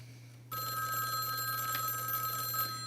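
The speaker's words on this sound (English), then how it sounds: "Who's on the phone, Mary?" An old-style telephone bell rings in a radio play, a bright continuous metallic trill starting abruptly after a short silence and sounding steadily close by.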